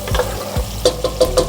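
A spoon stirring arroz caldo with ginger in a cooking pot, with a few soft scraping swishes followed by a quicker series of wet clinks and light sizzling.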